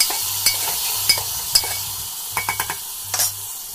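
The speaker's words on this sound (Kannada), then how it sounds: "ಪಲ್ಯಕ್ಕೆ ಒಗ್ಗರಣೆ ಹಾಕೊತಾಯಿದ್ದೀನಿ ಸ್ವಲ್ಪ ಸಾಸಿವೆ ಬೆಳ್ಳುಳ್ಳಿ ಈರುಳ್ಳಿ" Mustard seeds, garlic and onion tempering in hot oil in a pan for a vegetable dish, giving a steady close sizzle broken by a series of sharp clinks and scrapes of a spoon against the pan.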